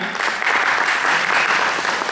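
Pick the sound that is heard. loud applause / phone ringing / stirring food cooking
loud applause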